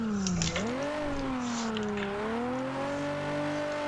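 A car of roughly 300 horsepower driven hard on the Nikko circuit in second and third gear. The engine note dips briefly, then climbs and holds a strong, steady revving drone, close and continuous, with no talking.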